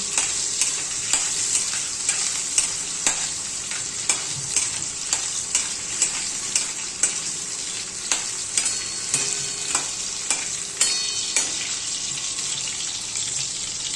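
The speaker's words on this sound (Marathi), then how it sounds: "आता हे ना असं भाजून द्यायचं बोंबील चांगले तेलामध्ये" Dried Bombay duck fish fries in oil with a loud, continuous sizzle close up, broken by regular scraping stirs of a utensil against the pan.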